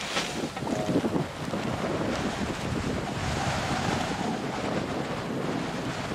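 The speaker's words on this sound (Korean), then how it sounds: "이날 캠프사이트에는 하루 종일 강한 바람이 불었다." Strong Himalayan wind roars steadily across a Makalu climbing campsite, a loud, continuous gusty rush buffeting the microphone for several seconds with no voices.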